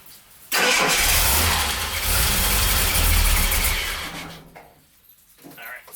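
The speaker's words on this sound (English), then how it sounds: "let's see if it cranks up again." A repaired small engine cranks and catches on half choke, roaring up loudly and holding a rough, uneven run for a few seconds before dropping away to a sputtering low idle.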